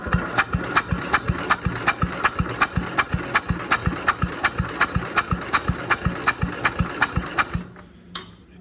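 A Jacobsen Chief 800 garden tractor engine, left outside for years, chugs in a steady, fast, rhythmic beat for about seven seconds before abruptly cutting out, loud and close.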